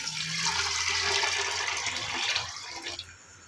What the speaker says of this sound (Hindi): इसके लिए मैंने इसमें पानी डाल दिया है।